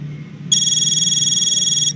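A telephone rings in the adventure game 15 Days, a single bright electronic trill starting abruptly and holding steady over a low background hum.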